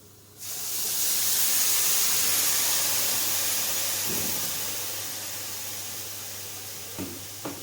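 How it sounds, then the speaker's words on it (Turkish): Water poured onto sautéed rice in a hot pan sets off a sudden loud, broad hiss of steam and sizzling that holds for several seconds and then slowly settles, with a few light clinks near the end. "kavurduğumuz pirinçlerin üzerine suyumuzu ilave ediyoruz"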